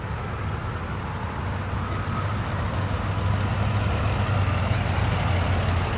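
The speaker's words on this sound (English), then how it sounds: "Here come the tow trucks" Tow trucks arrive at a roadside traffic stop with a heavy diesel engine rumble that builds steadily against a backdrop of road noise. No clear reversing beeps stand out.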